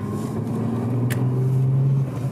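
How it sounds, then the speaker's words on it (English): A tuned Nissan Skyline GTR R33 on a test drive, its engine droning steadily from inside the car with a firm low hum that rises slightly in pitch before easing off. "we'll take her out for a spin and do a little performance test here"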